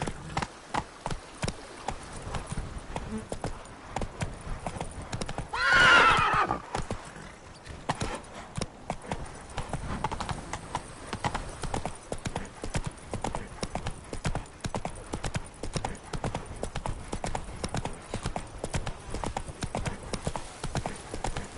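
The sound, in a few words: horse galloping in Witcher 3 video game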